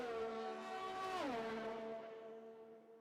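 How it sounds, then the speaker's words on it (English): A race car in a racing video game screams past with a loud, sustained engine whine that drops sharply in pitch as it goes by, then trails off while still audible. "Just listen to the cars scream past as you're coming now into..."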